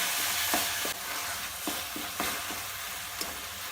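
Apple chutney with sugar is stirred in a wok (kadhai) over heat, with a constant frying sizzle and regular scraping spoon strokes, close and fairly loud.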